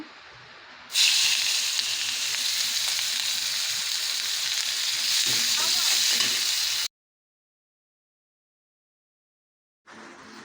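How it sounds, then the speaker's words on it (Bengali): Onions frying in oil in a wok, a loud steady sizzle and hiss that starts abruptly, runs for about six seconds with faint stirring, then cuts to silence before resuming briefly. "এখন পেঁয়াজ দিব কড়াইতে ভাজির জন্য"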